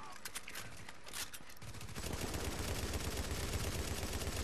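Gunfire in The Division's Dark Zone, starting as scattered rapid shots and then settling into a dense, continuous automatic burst that stays loud and close throughout.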